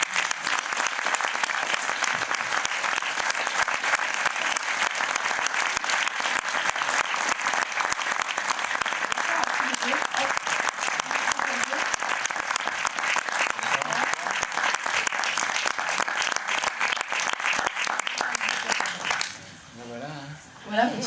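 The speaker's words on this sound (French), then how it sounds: "Je vous prie de les applaudir." Sustained audience applause for actor Gilbert Melki and director Sylvain Desclous at an evening screening talk, loud and dense for about nineteen seconds before tapering off abruptly.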